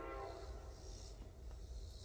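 A train passes with its horn sounding, a sustained loud rumble with blaring horn tones throughout, heard from a home kitchen with no talking.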